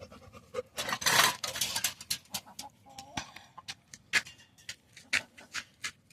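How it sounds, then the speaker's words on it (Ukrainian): Chickens clucking and squawking nearby in short, irregular bursts, with scratchy rustling between calls and no talking. "Дені, покажемо своїх самих лучших курей."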